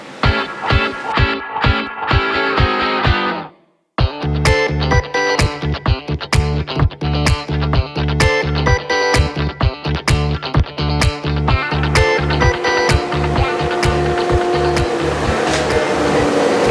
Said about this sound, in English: I'm going to cut this first piece. I'm going to use this sycamore for the top